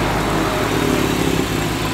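A Honda Civic Type R FK8 with an AWE Tuning aftermarket exhaust idles steadily up close, a deep rumbling exhaust drone with a slight rough pulse and no voices.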